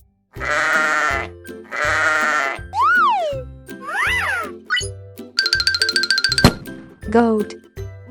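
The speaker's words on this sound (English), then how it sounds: "Sheep." A pair of loud sheep bleats opens a busy run of cartoon-like effects, with sliding whistles, chiming rattles and a final bleat, and no talking.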